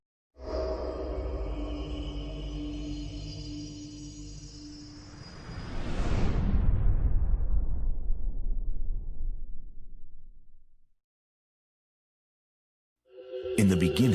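A big bang explosion sound effect opens in a cosmic documentary, with a sustained low rumbling roar that swells into a loud broad whooshing blast around the middle, then fades away into silence before a short burst of sound.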